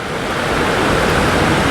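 Sgwd yr Eira waterfall in the Brecon Beacons woodland, a steady broadband roar of falling water that stays dense and unbroken throughout, close and loud.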